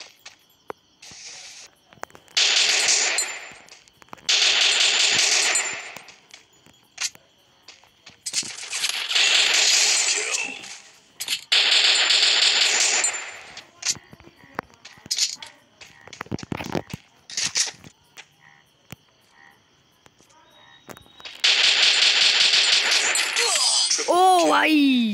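Gunfire in the mobile shooter Free Fire during a Clash Squad match: several loud, sustained bursts of automatic fire about one to two seconds each, separated by quieter gaps, with a final long burst near the end.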